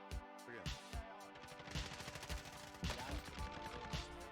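Gunshots in Call of Duty Modern Warfare Warzone crack in quick, fairly faint bursts over a droning game soundscape, several sharp shots spread across a few seconds.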